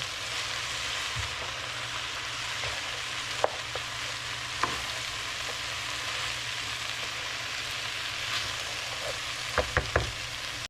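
Chicken spaghetti stir fry with low-sodium soy sauce cooking down in a pan makes a loud, continuous sizzle, with a few scattered clinks and scrapes of stirring, especially near the end.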